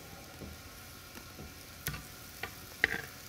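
Pork belly fries in a hot pan set too high, giving a low, steady sizzle with scattered sharp pops and crackles that stand out at close range.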